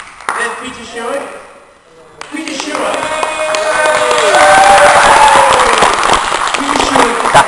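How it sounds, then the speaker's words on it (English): An audience bursts into sustained applause and clapping at a children's charity event, swelling from a brief lull into a dense, loud wash that continues to the end. "That's me clapping."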